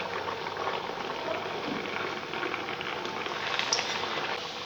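Green peas kachori frying in hot oil, a continuous dense sizzle and bubbling held at a steady level, close by with no voices.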